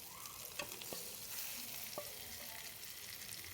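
Taro leaves being stirred and cooked in a pan with dal, with a soft continuous sizzle. A few distinct scraping stirs come at intervals, quiet and close, and no one talks.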